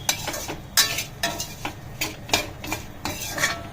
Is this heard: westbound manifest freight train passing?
no